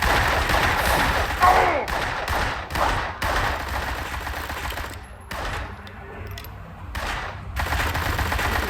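Bursts of gunfire crackle through a Blues and Bullets video game scene, rapid volleys of shots with brief gaps between, loud and close.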